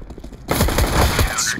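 Gunfire in a competitive esports shooter match between Gambit and FaZe, a sudden loud burst of rapid shots that breaks in after a quieter start and keeps rattling densely to the end.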